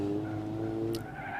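A car in BeamNG Drive skids and spins out on the Endurodrome track, tires squealing steadily over a droning engine note, loud and close.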